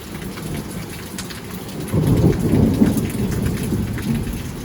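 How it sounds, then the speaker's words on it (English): Steady rain pours down, growing heavier and louder partway through, with a deep rumbling roar of thunder underneath. "this year, we're starting to get some rains."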